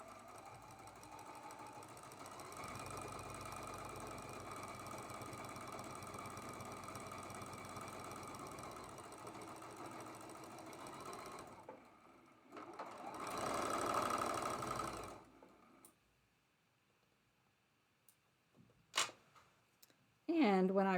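A sewing machine runs steadily for about eleven seconds stitching a quilt block seam, then stops. A brief burst of handling noise follows, then near quiet with a few small clicks and a short voice at the end.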